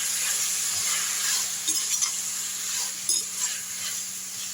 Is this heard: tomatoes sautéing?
yes